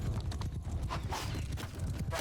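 Cavalry horses gallop in a Mount & Blade II: Bannerlord battle, a dense, continuous drumming of many hooves with a horse whinnying briefly in the mix, loud and close throughout.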